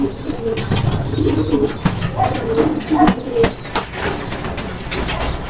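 Soft pigeon-like bird cooing repeats over a busy outdoor background, with occasional wing flutters and faint chirps mixed in.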